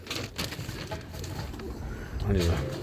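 Roller pigeons coo softly in a loft before feeding, low murmuring calls rising louder near the end over background noise and movement.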